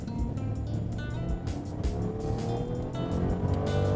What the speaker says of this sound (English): I'm going to give you a demonstration of the power that this car has